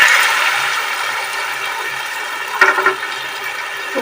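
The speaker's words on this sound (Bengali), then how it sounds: "এবার এতে আমি একটু জল দিয়ে" Water pours steadily into a pan of banana flower curry (mochar ghonto) on the stove, a continuous broad rushing splash that holds for several seconds, with a brief stronger burst of splashing near the end.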